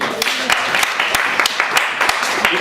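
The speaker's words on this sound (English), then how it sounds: "Round of applause for Jay Shri." Crowd applause, a steady patter of many hands clapping at moderate volume, with sharper individual claps standing out.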